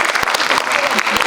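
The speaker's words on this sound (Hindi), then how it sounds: "मैं तीन बार ताली बजाऊंगा, आप मेरे साथ बजाएंगे" An audience at a motivational talk claps together, a dense, loud burst of applause with sharp claps landing in rough unison and close by, with a voice speaking over it.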